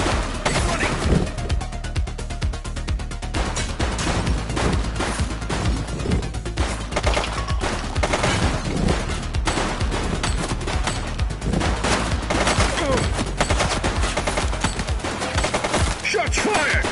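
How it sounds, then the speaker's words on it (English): Sustained gunfire in the police video game The Precinct, rapid cracking shots rattling almost without pause for the whole stretch, loud and close with dense bursts and occasional heavier impacts. "Shots fired!"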